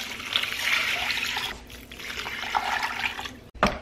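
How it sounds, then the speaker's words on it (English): Water is poured from a container into a slow cooker holding split peas, a steady splashing trickle that breaks briefly near the middle and ends with a short louder splash. "We're going to need 8 cups of water."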